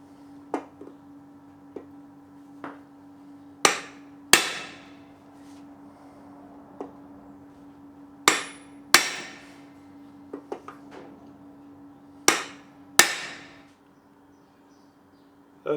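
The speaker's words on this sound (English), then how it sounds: "riveting this head over." A rivet head is hammered over on an anvil while fitting a Honda CX650E rear suspension: sharp metallic strikes, irregular singles and pairs, ringing briefly over a steady low hum.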